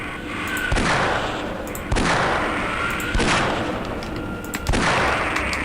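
Gunfire in a video game: four loud, sharp shots spaced roughly a second apart, each followed by a short ringing decay, heard up close with no talking.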